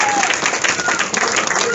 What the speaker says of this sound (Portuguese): Aplauda bem forte o nome do Senhor